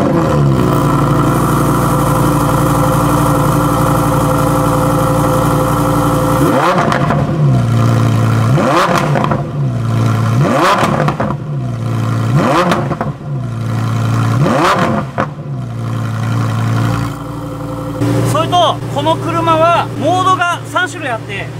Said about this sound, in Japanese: それではエンジンかけてみたいと思います。